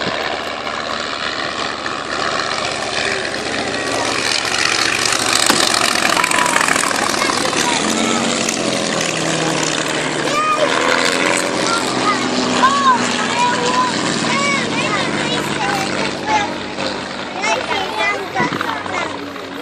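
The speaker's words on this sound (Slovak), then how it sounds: "vidíme na ľavej strane práve naletáva nemecké lietadlo na kukuruzníka" A German propeller aircraft attacks a Po-2 kukuruznik biplane, engines droning loudly and continuously with shifting pitch as the planes maneuver, under steady commentary.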